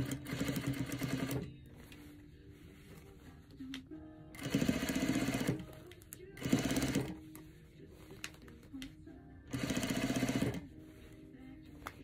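A sewing machine stitches a hem on a shirt sleeve in four loud whirring runs of about a second each, separated by pauses with faint room noise.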